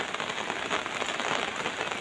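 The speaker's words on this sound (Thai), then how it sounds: "ฝนก็เริ่มตกเข้าตกเข้าแล้วครับ" Steady morning rain falls on surfaces outdoors, a dense, even hiss with soft patter throughout, no voices.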